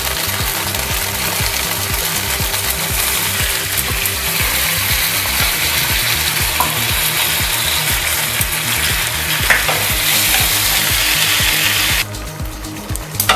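Masala for a paneer satay gravy sautéing in a pan with a little water, giving a loud, steady sizzle with a rhythmic scraping rattle running underneath. The sound continues without pause and no one speaks.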